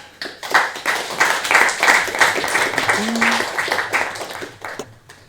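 An audience at a game developer community gathering breaks into applause, a dense burst of clapping hands lasting about five seconds, rising quickly and fading at the end, with some voices mixed in.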